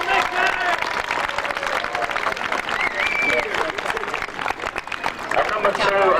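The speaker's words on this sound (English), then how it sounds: "Give him a good round of applause." Crowd at the 1990 British Senior Individual speedway final in Norwich applauds a rider being introduced, steady clapping and cheering throughout with a muffled announcer's voice over the top.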